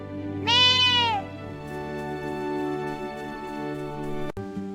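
One goat bleat, drawn out and wavering, rings out clearly and close over soft, steady background music.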